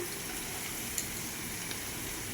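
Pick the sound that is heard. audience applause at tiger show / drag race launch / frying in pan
frying in pan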